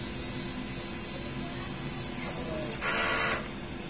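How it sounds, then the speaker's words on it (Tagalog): A DTF printer runs its print head cleaning cycle, giving a steady mechanical hum with a constant tone, then a short louder whirring burst near the end before settling back to the hum. "Head clean, pindutin lang natin yung clean, normal heads."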